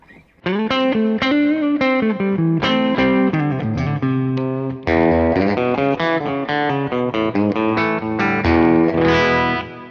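Les Paul electric guitar played through a Kemper amp with EQ engaged, a distorted chorus-tinged tone strumming chords and riffs continuously and loudly, with a brief pause near the middle, no talk.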